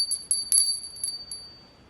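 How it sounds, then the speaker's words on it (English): A small crystal bell gives a few quick, high, glassy tinkles, close and fairly soft, fading into quiet after about a second and a half. "a crystal bell."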